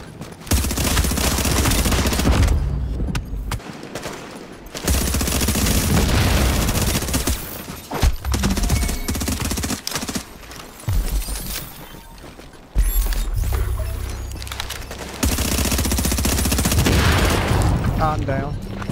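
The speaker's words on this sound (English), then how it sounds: "They're all using shotguns too, man." Shotgun fire in the video game The Division during a firefight against several opponents, loud repeated blasts in dense clusters with brief lulls, close and under occasional talk.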